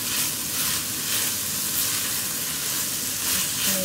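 Leek and celery sizzling and frying in a pan, a steady, loud, continuous hiss with a crackling texture throughout and no pauses.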